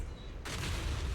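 A single explosion bursts in the game ZZZ, a sudden loud boom that hits after a brief quieter moment and rumbles on to the end.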